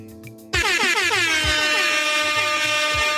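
A loud, blaring air horn sounds after a short buzzy lead-in, holding a sustained brassy chord with a repeating pulsing pattern.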